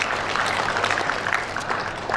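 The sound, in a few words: audience applauding at a graduation ceremony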